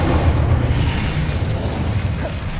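Fire spell cast in the Hogwarts Legacy video game, a dense rumbling burst of roaring flame and impact noise that stays loud and steady throughout, with no speech.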